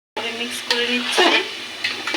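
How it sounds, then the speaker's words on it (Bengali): Rice and lentils sizzle and are stirred in hot oil for khichuri, a close, steady frying hiss with scraping stirs, while a voice talks over it. "চাল ডালটা দেওয়া হয়ে গেছে, এখন এটা ভালো করে মিক্স করে নেই।"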